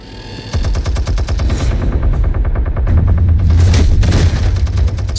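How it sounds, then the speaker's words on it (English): Turret gunfire in Batman The Telltale Series: loud, rapid automatic bursts with booming low impacts run almost continuously, rising into a denser roar of fire and blasts toward the end. "Man pulled out a whole turret."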